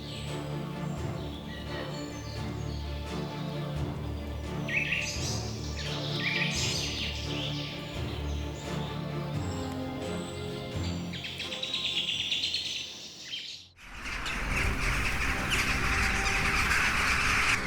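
A flock of parrots gives shrill squawks and chirps over a dense, constant wash of bird and insect noise, with the chatter jumping louder and brighter near the end.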